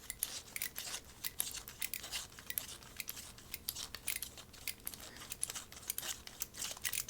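A colour-changing pencil grinding in a ratcheting hand pencil sharpener, a steady run of fine, dense scraping clicks close up with no voices.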